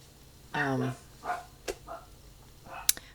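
Several dogs bark as they run outside: a short burst of yelping barks, followed by scattered, quieter yips and one sharp bark near the end, heard at moderate distance.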